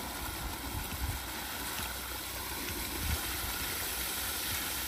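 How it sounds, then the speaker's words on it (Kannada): Water gushing under pressure from a 2.5-inch farm pipeline on a pomegranate farm, a steady broadband rushing roar holding constant throughout, close and fairly loud, no voices. "ಕಡಿಮೆ ಅಂದರೆ ಒಂದು 2-3 ಇಂಚ್ ನೀರು ಬರ್ತಿದೆ, ಪ್ರೆಷರ್ ಆಗಿದೆ"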